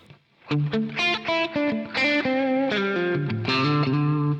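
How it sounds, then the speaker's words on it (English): Electric guitar notes played one after another with a distorted, effected tone, each note ringing out into a reverberant tail. "you can hear that the initial transient is not affected by the reverb and the reverb comes afterwards"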